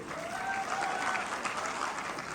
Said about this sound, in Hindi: एक बार आप लोगों के लिए जोरदार तालियां होंगी।